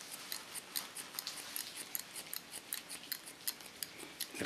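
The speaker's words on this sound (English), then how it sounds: "I just slice cut in the opposite lines" Scissors snip rapidly and rhythmically through hair during a slice-cutting pixie haircut, a dense run of crisp, close metallic clicks with no talking.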